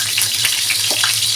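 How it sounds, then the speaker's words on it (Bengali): Potatoes for a meat curry fry in hot oil, a brief, loud, dense sizzle and crackle with no voices. "আমি মাংস দেওয়ার আলুগুলো ভেজে নেব"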